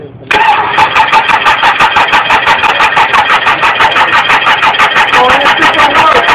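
A small engine, started by a class group, catches abruptly after a moment of quiet and runs loud and close with a rapid, even pulsing idle that holds steady to the end.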